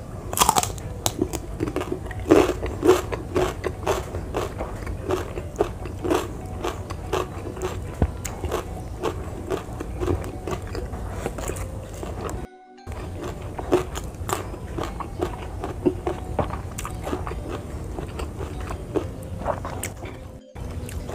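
Raw winged beans (kecipir) are bitten and chewed up close in a steady run of crisp, crunchy bites and wet chewing, with a brief pause partway through.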